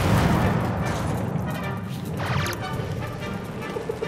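Explosions rumble and crash in the Star Trek 2013 video game on PS3 or Xbox, a loud dense roar of blasts with crackling debris, continuous and close.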